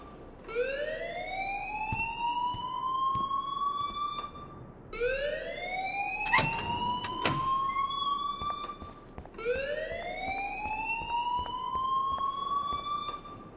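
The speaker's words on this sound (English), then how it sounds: "please turn off that alarm since that's your job." In the Life Is Strange school, a fire alarm wails in three long rising sweeps that repeat in a steady cycle, loud and close, with a few sharp clicks between sweeps and no speech.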